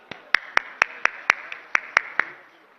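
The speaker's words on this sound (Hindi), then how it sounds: "मैं चाहूंगा कि जोरदार तालियों में हमारे हरदिल अजीज सीएम साहब का इस्तकबाल हो।" About ten sharp, evenly spaced claps ring out close and alone at an iftar gathering in a stadium as the chief minister is welcomed, fading quickly after the last one.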